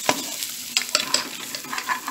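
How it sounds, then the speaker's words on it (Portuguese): Onion frying in a pan on a home stove while a New Year's lunch is cooked, a continuous sizzle broken by several scraping stirs, close by and with no talking. "Aqui tá a cebola fritando."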